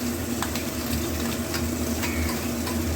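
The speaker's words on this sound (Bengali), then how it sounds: "এবার পেঁয়াজ ভাজাটা তার উপর দিয়ে দেবো, সব মশলাগুলো দিয়ে মোটামুটি ভালো করে কষিয়ে দেবো" Fried onions and spice paste sautéing in a pan for Bengali oler dalna, a steady close sizzle with faint stirring scrapes, continuous and fairly loud, no voices.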